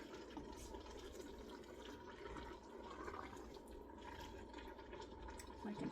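Italian spaghetti sauce bubbling and gurgling in a pot on high heat, a soft, continuous, watery burble with no clear breaks, fairly quiet throughout.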